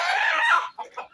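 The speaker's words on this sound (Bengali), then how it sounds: "অনেক বড় বড় মোরগ।" A big rooster on a chicken farm gives one short, close, loud call that breaks into a couple of brief clucks.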